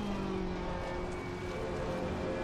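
A race car engine held at full throttle in Assetto Corsa Competizione at Zandvoort, a loud, steady, sustained drone with a constant pitch throughout.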